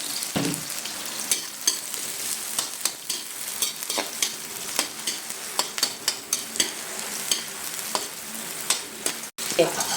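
Garlic and green chili fry in a hot pan for ginataang papaya, a continuous crackling sizzle with regular spatula scrapes and taps recurring roughly every half second throughout.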